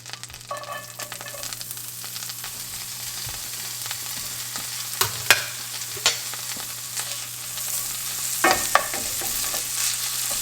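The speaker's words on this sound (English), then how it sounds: "we're going to go ahead and add in our bacon and shallot" Bacon and shallot frying in butter over medium-low heat, a steady sizzle running throughout with occasional sharp clicks and scrapes from stirring, close and without talk.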